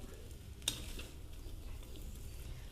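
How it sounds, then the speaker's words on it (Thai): Noodles being stir-fried with cabbage in a pan, a soft steady sizzle with stirring and scraping throughout and one sharp utensil clink early on. The frying is faint and heard alone, with no voices. "ผัดให้กระหล่ำปลีสลบสไล"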